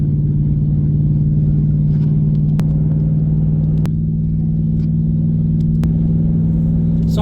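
A car cruising on smooth pavement gives a steady, loud low engine and road rumble that holds evenly throughout, with a few faint sharp ticks on top.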